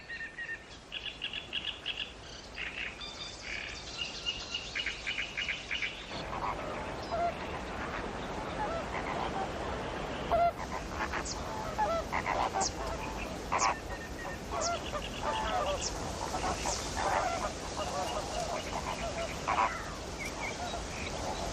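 Water birds, flamingos among them, call from a coastal salt marsh between salt pans and sea, a chorus of honking and quacking calls that grows busier after the first few seconds over a constant outdoor background.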